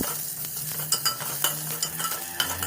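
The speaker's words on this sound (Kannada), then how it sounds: "ಈರುಳ್ಳಿ ಬಣ್ಣ ಚೇಂಜ್ ಆಗೋವರೆಗೂ ಫ್ರೈ ಮಾಡ್ಕೋಬೇಕಾಗುತ್ತೆ" Onions, green chilies and curry leaves fry in a pan for aloo gojju, producing a steady close sizzle with light stirring taps and occasional crackles.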